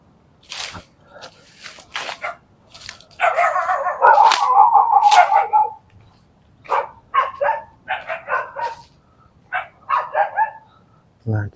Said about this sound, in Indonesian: Itu ada anjing yang menggonggong terus